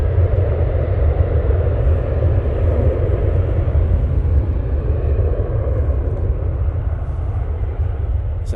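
Deep rumbling roar of a Ryanair airliner departing Manchester Airport for Pisa, a continuous low-heavy engine noise heard from the spotting area, sustained and fairly loud throughout with no talk.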